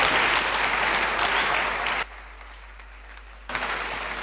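A crowd at a college anniversary celebration claps for the principal, loud sustained applause that drops away abruptly midway, leaving a quieter stretch before clapping swells back in.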